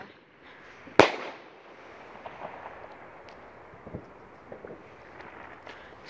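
Bonfire night fireworks exploding overhead, one sharp loud bang near the start followed by fainter distant pops and crackles over a windy outdoor background.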